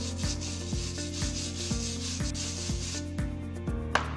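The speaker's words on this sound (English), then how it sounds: "it's not a bad idea to rub the new pads on a medium-sized sandpaper, just to roughen out the surface" New brake pads for a Citroen C5 X7 are rubbed back and forth on medium sandpaper, making steady rhythmic scraping strokes about twice a second, close and fairly loud with no talk.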